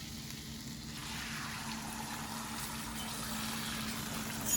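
Egg omelette frying in an omelette pan that is not too hot, with little excess fat, giving a soft, steady sizzle and crackle that holds evenly throughout, close and fairly quiet with no talking.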